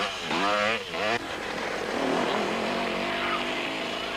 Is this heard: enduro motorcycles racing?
yes